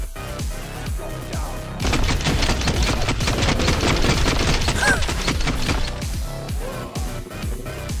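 Dense, continuous gunfire in the shooter video game Transience, with rapid overlapping shots and sharp impacts that swell loudly from about two seconds in, then thin to scattered reports near the end; no talking.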